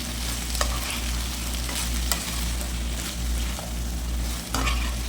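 Chicken pieces fry in a hot pan for Chinese-style chilli chicken, with a loud, continuous sizzle and periodic scraping stirs of a spatula. No voices are heard.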